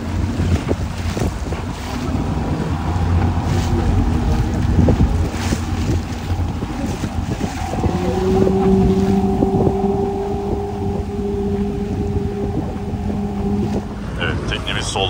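A motorboat chugs across the water near Marmaris, Turkey, its engine a steady low hum with gusts of wind buffeting the microphone and people talking over it.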